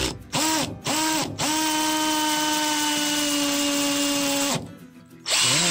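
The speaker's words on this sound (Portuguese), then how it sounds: "Então vamos fazer esse furo aqui nesse tijolo maciço." A cordless drill in hammer mode at speed 2 bores into solid brick with a 10mm bit, loud and close, starting with a few short revs, then one sustained whining, rattling run of about three seconds before stopping and restarting.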